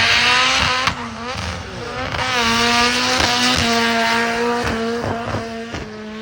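A race car at Castle Combe circuit, its loud engine revving and shifting up and down through gears close by, with brief tire squeal as it drives hard.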